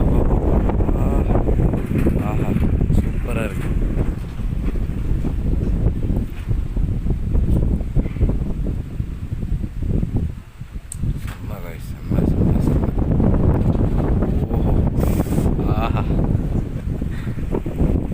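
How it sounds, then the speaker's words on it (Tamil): Strong night wind buffets the microphone in a continuous loud low roar with gusts, dipping briefly near the middle before surging back, with no clear talk over it. "ஆனால் காற்று அப்படி ஒரு காற்று."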